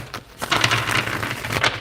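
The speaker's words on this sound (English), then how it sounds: "Sorry if my shuffling is loud." A deck of tarot cards is shuffled by hand during a reading, giving a close, steady papery riffling with short bursts of crisp flutter and no talking.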